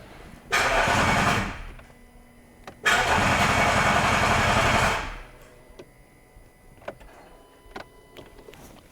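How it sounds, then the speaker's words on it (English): A rebuilt Range Rover 3.0 TDV6 diesel engine cranks and catches twice in two loud bursts of roughly two seconds each, cutting out after each attempt, followed by quiet ticks and faint clicks. "the car turns on and then turns off"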